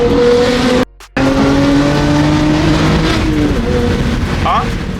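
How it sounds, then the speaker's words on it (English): BMW F80 M3 exhaust with a flame tune rumbling loudly up close, a steady low burble interrupted by a sudden brief cutout before the engine drone resumes, with faint voices in the background. "BMW burbles."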